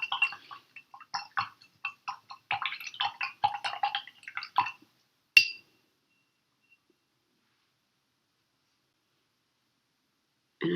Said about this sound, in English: Okay, now I'm going to rinse out my brush.